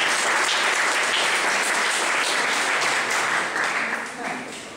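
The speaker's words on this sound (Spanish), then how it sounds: "Fuertes aplausos, por favor" An audience at a criminal law specialization course at a Peruvian university gives a sustained round of applause, steady and full before tapering off in the last second.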